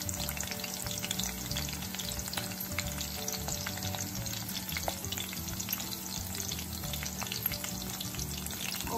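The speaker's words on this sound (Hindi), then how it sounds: "बिल्कुल ऐसे अलग अलग ऑनियन हैं। तो देखिए आपको इन्हें फ्राई करना है।" Onions frying in a pan for fried rice, a steady dense sizzle with faint stirring scrapes, close and continuous with no talking.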